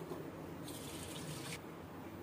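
Boiled veg hakka noodles drain through a strainer in a steady, soft rush of water that briefly grows brighter and splashier in the middle.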